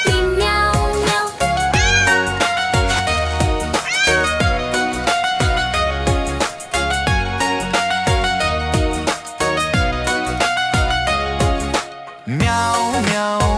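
Cat-like meows, evidently sung by a voice imitating a cat, repeat rhythmically through a bright, busy children's nursery rhyme with steady music and beats throughout.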